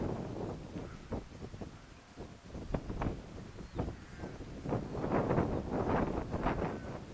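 Gusty wind buffeting a microphone outdoors on a hillside during slope soaring of a radio-controlled glider, a steady rushing noise with rises and bursts, louder toward the end, with faint rustling and no talk.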